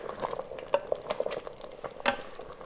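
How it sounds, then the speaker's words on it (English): A spoon stirs dal dhokli pieces in a cooking pot, giving soft, irregular scrapes and light clinks against the metal over a faint bubbling simmer, close and quiet. "Give it a gentle stir."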